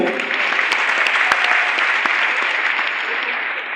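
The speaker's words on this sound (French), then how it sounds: "je vous invite à les applaudir à nouveau" An audience at a civic gathering applauds steadily for several seconds, a dense wash of hands with a few sharper individual claps standing out, with some voices in the mix.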